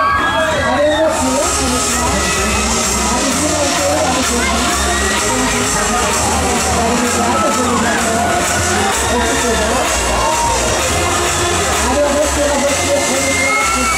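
Riders on the Diablo, a Mondial fairground thrill ride at a funfair in Guéret, scream and shout continuously over loud pounding music and machinery noise.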